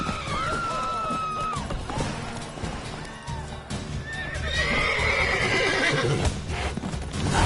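Horses in a PS4 video game whinny and neigh loudly, with clip-clopping hooves and crashing game effects, while voices are heard in the mix.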